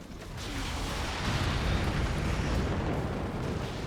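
Weapons fire and explosions in the strategy game Forts: a dense, continuous roar of overlapping blasts and booms with crackling bursts, steady and loud throughout with no voices.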